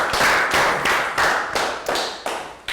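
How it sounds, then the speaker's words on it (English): A classroom of Year 3 pupils claps for a student, a dense burst of hand claps that swells, dips and renews in uneven waves over a few seconds, close and fairly loud, with no talking. "Round of applause for Net"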